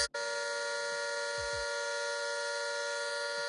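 A steady, loud Vitol electric car horn blares continuously after a brief click, a single sustained tone with no talking.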